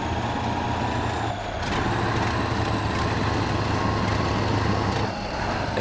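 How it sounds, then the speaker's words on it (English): A damaged logging truck in the SpinTires off-road game grinds along with a continuous loud engine drone, layered with rattling and clunking throughout and a brief dip partway. "I think it's the damage that's causing the weird noises this truck is making right now."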